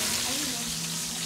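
Cordon bleu fries in a pan with a dense, close, continuous sizzle and crackle that stays even throughout, with no distinct stirring strokes.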